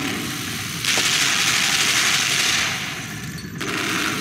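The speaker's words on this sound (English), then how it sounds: "They trying to shoot us!" Sustained, noisy rattle of gunfire aimed at the player in the video game LIMBO, a steady broadband barrage that surges, dips briefly, then resumes, heard alone without talking.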